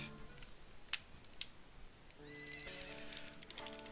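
In a video game, a horse lets out a whinny followed by a couple of sharp clip-clopping hoof hits and a longer neigh, all fairly close and alone with no speech.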